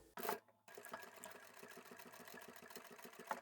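A sewing machine stitches a back stitch while making a notebook storage folder, with a short burst, a pause, then a steady fast rhythmic needle chatter running close and quiet.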